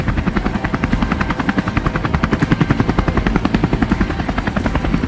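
Rapid, steady thudding of a Coast Guard helicopter's rotor blades, loud and close, continuous throughout.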